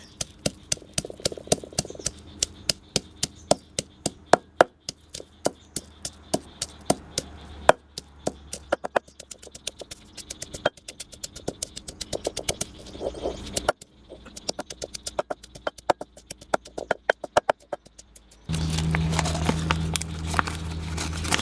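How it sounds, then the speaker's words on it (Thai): Small Thai garlic cloves pounded in a mortar with a pestle: sharp, regular thuds repeat in a steady rhythm for most of the stretch, close and clear, before a broader sizzling noise takes over at the end. "แล้วก็โขลกกระเทียมก่อนนะคะ"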